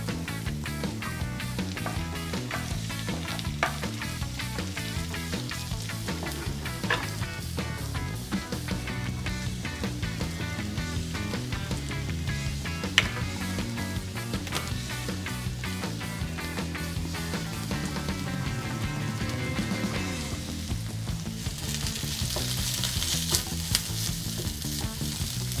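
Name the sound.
vegetables with cabbage and green beans frying in a pan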